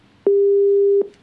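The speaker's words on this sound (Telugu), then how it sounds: "ఫోన్ లైన్ డిస్కనెక్ట్ అయినట్టుంది." A single steady telephone busy-signal tone after a phone line disconnects, about three quarters of a second long, loud and clean with no talk around it.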